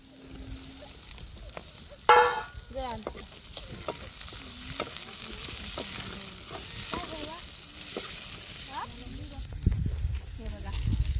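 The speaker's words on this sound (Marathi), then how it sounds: "कांदा मिरच्या न लसूण चांगला शिजला आहे हे बघा तर टोमॅटो टाकून घेते" Onion, green chilies and garlic fry in a pan as tomatoes are added, giving a steady sizzle with stirring scrapes and a sharp clatter near the start. Someone talks over the cooking throughout.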